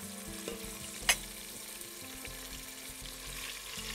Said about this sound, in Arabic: اللحمة هنا مش هسلقها، اللحمة هحمرها